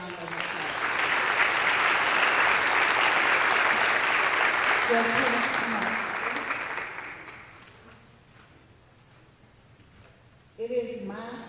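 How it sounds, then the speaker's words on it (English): An audience at a Charter Day college ceremony gives Judge Bennett a sustained round of applause that swells, holds, then fades, with a speaker's voice coming in over the tail end. "Let's give Judge Bennett another round of applause."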